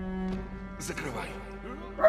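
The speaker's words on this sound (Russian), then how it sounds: "Гавкает там нахуй на кого-то" A dog barks and yips a few times in the background, fairly faint and mixed with a steady electronic hum and low voice-like sounds.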